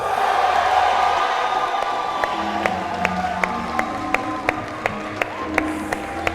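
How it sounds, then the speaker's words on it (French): A school prize-giving audience applauds the winning school, Lycée Fort-Lamy, with loud, sustained clapping, cheers and whoops, and sharp individual claps stand out as the ovation continues. "est-ce qu'on peut applaudir très très fort pour le candidat de Fort-Lamy?"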